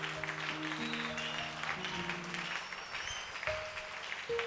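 A church congregation claps in a steady wash of applause, moderately distant, with sustained tones and faint voices underneath.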